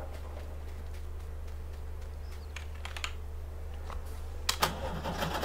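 A vintage tractor engine cranks and starts in Farming Simulator 19, settling into a steady low hum with a few clicks and a brief sharp burst near the end.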